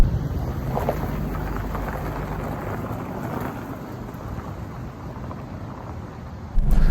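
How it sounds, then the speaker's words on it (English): A Jaguar XJS on the move carries a heavy, steady low rumble from a worn rear hub carrier, blended with broadband road and wind roar that runs continuously without talk. "there's a pretty heavy rumble coming from the rear end, and that would be a rear hub carrier that has decided to get grumpy over the past month or so"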